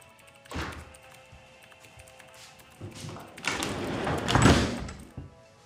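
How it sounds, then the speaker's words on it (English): Indoor door swung shut with a thud near the end, preceded by faint tapping and rustling movement, with a little background talk. "can you close that door on your way out?"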